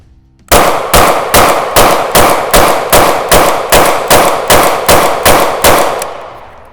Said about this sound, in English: we'll put some rounds down range